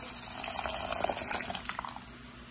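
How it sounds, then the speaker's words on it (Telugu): Water poured into a pot of sambar with tamarind juice already added, a soft steady trickle with faint splashes, fairly quiet and heard on its own. "సాంబార్ కాబట్టి ఇంకొంచెం వాటర్ కూడా వేస్తున్నా"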